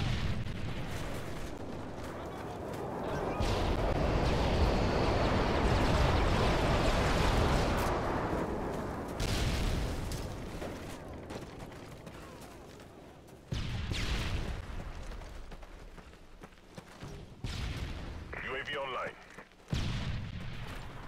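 Stealth airstrike bombing in Call of Duty Modern Warfare 3, a long rumbling wash of explosions that swells and fades, followed by further booms and bursts, with voices talking over parts of it.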